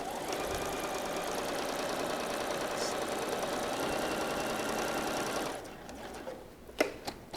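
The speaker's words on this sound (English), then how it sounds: "I want to sew this to get these two lines together to make our block" A sewing machine runs steadily while stitching pieces of a quilt block for flying geese blocks, a continuous close mechanical whir for about five seconds before stopping, followed by faint handling clicks.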